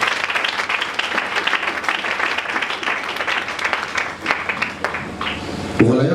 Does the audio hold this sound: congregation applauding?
yes